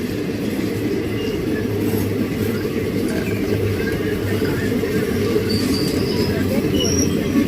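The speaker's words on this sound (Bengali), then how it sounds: "এই ট্রেনটি কিন্তু পুরীর দিকে যাচ্ছে।" A train bound for Puri slowing to a halt, a loud steady low rumble of wheels and carriages with faint squeals above, heard from on or beside the train.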